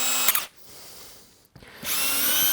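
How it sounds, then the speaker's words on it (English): Power drill driving a couple of screws into plywood for a bandsaw circle-cutting jig: a loud, close whirring buzz that stops for about a second, then starts again and holds steady, with no talking. "And we've got couple of screws I'm going to put in."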